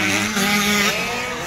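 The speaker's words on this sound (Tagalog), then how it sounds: "grabe padagano nilang mga motor guys" Motocross motorcycles racing at a dirt-track event in Maramag, Bukidnon, their engines revving in a loud, sustained whine that rises and falls through a brief pass.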